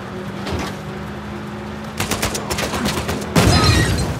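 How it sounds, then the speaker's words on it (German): A burst of heavy gunfire and explosive crackling from Uncharted 4: A Thief's End as a truck explodes, starting with scattered shots and building to a loud, dense barrage near the end. "Der LKW ist irgendwie explodiert"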